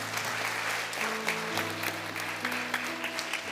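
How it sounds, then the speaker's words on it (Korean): Steady, full-room applause from a Sunday church congregation honoring a member who completed a one-on-one discipleship course, with a soft sustained keyboard-like drone underneath throughout. "이찬주 자매님 이하 동문인데 큰 박수로 축복해 주십시오."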